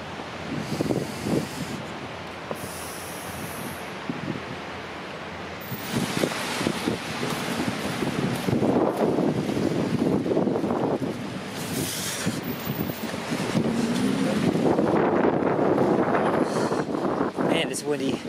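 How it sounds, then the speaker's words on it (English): Steady November wind in Toronto rushes and buffets the microphone throughout near an outdoor skating rink, with someone talking over the blustery roar. "Man, it's windy"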